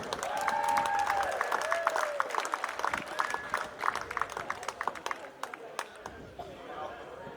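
Outdoor crowd applause at The Villages Polo Club after a polo match, scattered claps building and fading under a voice speaking over a loudspeaker.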